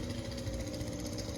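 A chainsaw runs steadily in the background outdoors near a coil being leak-tested, a continuous buzzing engine drone with no breaks across the short stretch, moderately loud and unaccompanied by speech.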